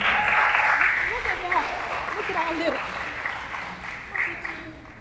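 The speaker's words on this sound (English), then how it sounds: "Give him a round of applause as he comes." Applause from an audience at a Big Brothers Big Sisters Thank A Mentor Day event as a speaker walks to the podium, a steady moderate wash of clapping with voices mixed in, gradually thinning.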